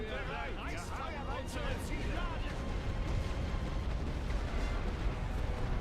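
Artillery fire in The Great War: Western Front, a World War I trench-warfare game, rumbles steadily as a dense, continuous barrage of booms with scattered sharper bursts, while a voice talks over it throughout.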